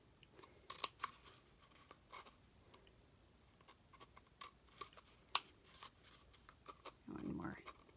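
Scissors snip through folded paper for a spooky castle craft, a string of short crisp cuts spaced irregularly, fairly quiet and close, with a low rustle of paper handling near the end.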